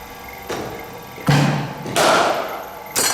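Cricket bat striking a ball during a batting net session practising cover and straight drives, a few sharp thuds spaced about a second apart, fairly close.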